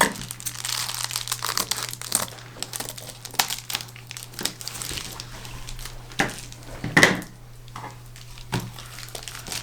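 Scissors cutting out a paper template for a pot cozy, a little larger than the pot lid, making soft crinkling, crunching snips that come in irregular bursts close by, with a steady low hum underneath.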